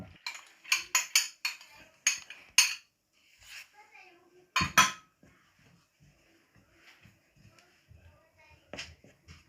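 Dough in a bowl being mixed after activated yeast is poured into flour, with clinking and scraping of a utensil against the bowl, quick at first and then softer and sparser, close by.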